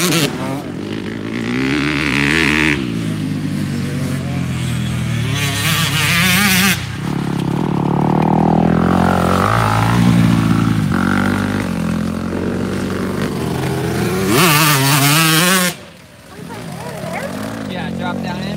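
Motocross motorcycle ridden around long corners at a training session, engine loud and close with repeated throttle surges and revving; a voice talks over it throughout.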